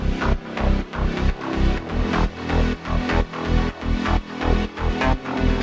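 A progressive house synth pad layered with a heavily sidechained bass, pumping in a steady regular rhythm of about two swells per second, loud and full with a deep low end and no voices.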